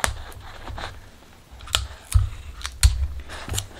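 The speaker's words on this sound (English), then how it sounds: "I'm just taping it right around the ear." Tape is pulled and pressed around the ear of a paper mache fox mask, giving a series of sharp crackling snaps and rustles at irregular intervals, close and fairly quiet.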